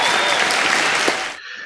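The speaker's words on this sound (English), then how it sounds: "can we get a round of applause for our two wonderful guests?" Audience applause for two guests at a film interview event, a dense, steady wash of clapping from a crowd that cuts off abruptly near the end, leaving quiet room tone.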